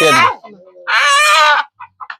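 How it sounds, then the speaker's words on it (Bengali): Chickens on a desert farm in Saudi Arabia make short clucks and a drawn-out squawk close by, with a few quick clucks at the end. "এগুলা মুরগি"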